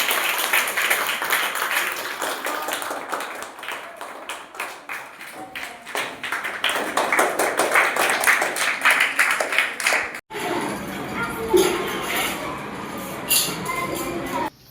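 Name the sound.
audience giving loud applause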